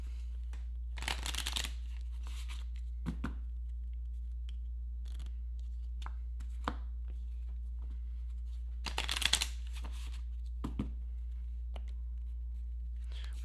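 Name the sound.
shuffling a deck of board game cards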